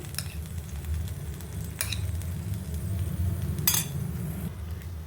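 Mixed vegetables go into a hot pan for no-maida pizza bites and get stirred, a low continuous sizzle with a few sharp clinks and scrapes of a utensil against the pan, close and without talk.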